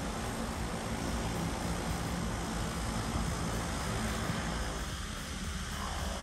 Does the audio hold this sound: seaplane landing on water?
yes